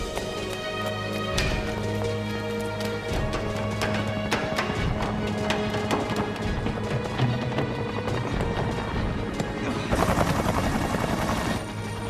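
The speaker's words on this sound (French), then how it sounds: "L'hélicoptère." A helicopter's rotor thumps rhythmically and loudly, with a whining engine drone throughout and a harsher burst of noise near the end.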